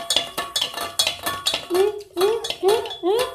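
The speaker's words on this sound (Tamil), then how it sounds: "முட்டை பாருங்க, இந்த மாதிரி நல்லா மிக்ஸ் பண்ணிக்கணும்" Honey cake batter with egg is mixed briskly in a bowl, with a rapid rhythmic clatter of utensil against the bowl and short squeaky scrapes toward the end, close and fairly loud with no talk.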